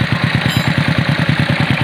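A rebuilt Honda Dream motorcycle engine idles steadily nearby, its low pulsing exhaust beats repeating in a fast, even rhythm with a faint mechanical clatter and no talking.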